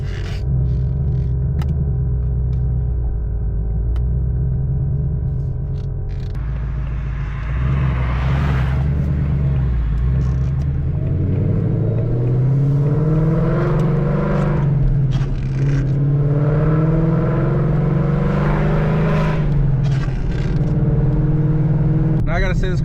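A Ford Mustang S650 drives on a wet road in the rain, giving a loud, steady cabin drone of engine and tyre hiss, with the engine note swelling as it picks up speed and a voice talking over it.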